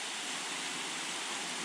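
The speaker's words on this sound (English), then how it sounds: "Bottom of the waterfalls." A waterfall in Mount Field National Park, Tasmania, heard from the bottom of the falls, roaring as a steady, dense broadband rush with no voices.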